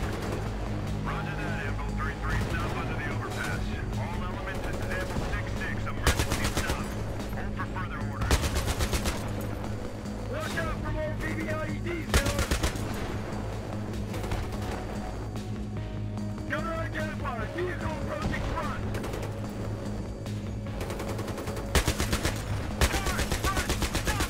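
Battlefield 3 combat on the Thunder Run mission: repeated bursts of automatic gunfire and single heavy shots crack out over a constant engine rumble, with scattered explosions and intermittent voices between volleys.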